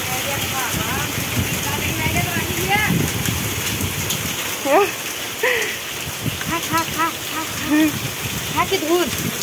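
A dense, continuous downpour of rain and hail roars throughout while several voices talk and exclaim over it.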